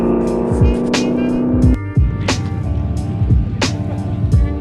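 A 2JZ-swapped Lexus and a Mustang street racing, loud engines roaring close by with sharp gear-change dips and rising revs, car noise continuous throughout.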